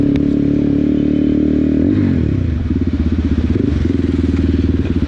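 A Cross Fire CF 250 twin motorcycle idles loudly up close with a steady throb, then the engine note drops into a lumpy, pulsing idle rhythm, with no talking.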